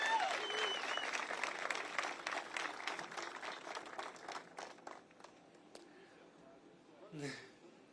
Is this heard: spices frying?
no